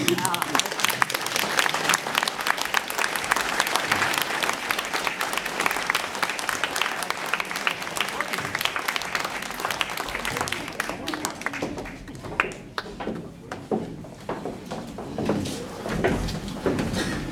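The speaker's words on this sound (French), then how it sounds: "Je les applaudis." A hall audience at a 2014 municipal election list presentation in Valleraugue claps in a sustained burst of applause that thins out toward the end, with some voices mixed in.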